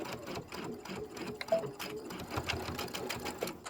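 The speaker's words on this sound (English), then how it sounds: "you should backstitch forward and back, beginning and end, I mean" A sewing machine fitted with a walking foot runs steadily while backstitching the seams of a cucumber eye mask, its needle chattering in a fast, even rhythm, close and clear, with brief faint voice underneath.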